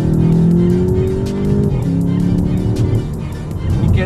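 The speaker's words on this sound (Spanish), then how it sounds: "llevamos a altas revoluciones el motor, vamos a tener un petardeo ahí en el cambio" A Volkswagen Jetta GLI engine revs high and pops during gear shifts, the loud rising engine tone breaking at each shift with sharp crackles and bursts close by.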